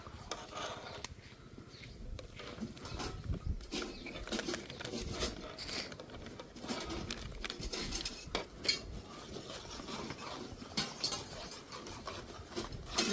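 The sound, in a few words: stirring thickening milk in a pan for fruit salad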